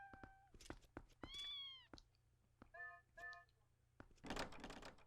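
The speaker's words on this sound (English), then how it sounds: "Oh, the kitties!" Cats meow in The Legend of Zelda: Twilight Princess HD, several distinct rising and falling mews in succession, mixed with soft thunks and clicks, and a burst of rustling noise at the end.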